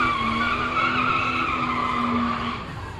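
A Seat Leon Cupra ST at a quarter-mile drag race makes a loud, close tire squeal and engine tone. The sound holds steadily, then eases off toward the end.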